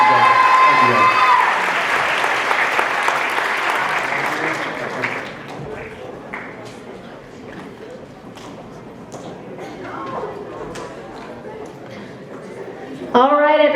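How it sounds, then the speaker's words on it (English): An audience applauds at a high school Black History celebration. The loud, dense clapping fades after about five seconds into scattered claps and crowd murmur, and a voice speaks near the end. "go ahead and give them a round of applause"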